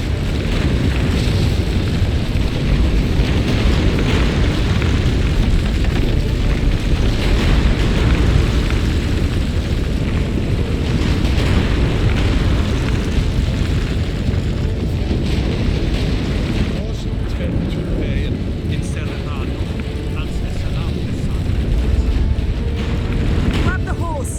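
In a video game, a deep, loud earthquake rumble roars continuously while a ship groans and breaks apart, with crashing bursts throughout and characters talking over the din.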